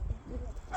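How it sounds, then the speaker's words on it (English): A loud dog gives a single short bark, quiet and brief, with a voice faintly present around it. "And that dog is loud."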